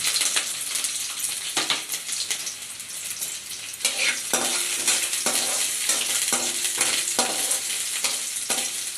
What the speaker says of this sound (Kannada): ಈಗ ಈರುಳ್ಳಿ ಫ್ರೈ ಮಾಡ್ಕೊಳ್ಳೋಣ ಮುಚ್ಚಿಟ್ಬಿಟ್ಟು